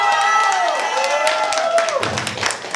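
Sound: audience applause for a wedding contest expert

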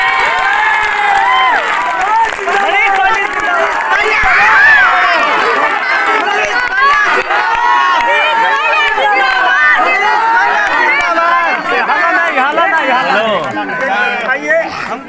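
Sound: large crowd of supporters at election campaign

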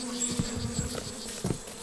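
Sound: swarm of aggressive stingless bees around a nest

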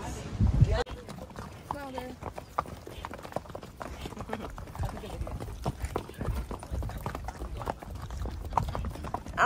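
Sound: horses walking, hooves clip-clopping

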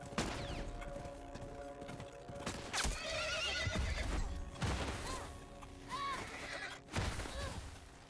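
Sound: horse neighing in The Last of Us video game

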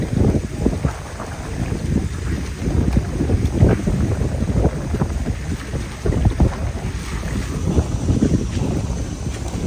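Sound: large ferry boat on a river

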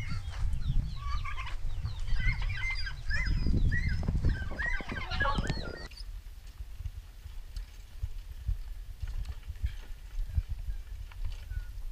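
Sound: chickens and other farm poultry on a farm

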